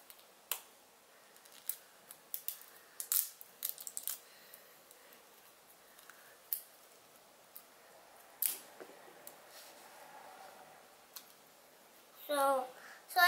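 Scissors snip and crunch through plastic toy packaging in a quiet room, a scattered series of short sharp clicks and snaps, with a brief louder rustling crinkle near the end.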